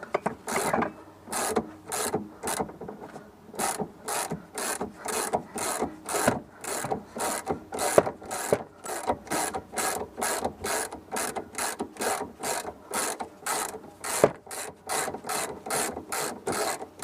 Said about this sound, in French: maintenant avec la clé de 19, on va défaire, 18 pardon, on va défaire l'écrou de la barre stabilisatrice